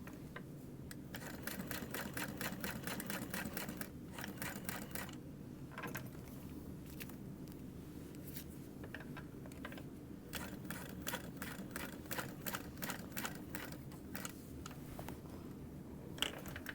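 A sewing machine with stitch length set to 5 runs in steady bursts of fast mechanical rattling, pausing briefly a few times before starting again, close and moderately loud.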